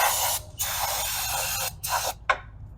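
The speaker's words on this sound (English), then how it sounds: "A little brake clean goes a long way, just to get all the nasties out of there." Brake cleaner sprayed onto ATV starter parts in several close, loud hissing bursts, a long blast followed by shorter squirts with brief gaps between them.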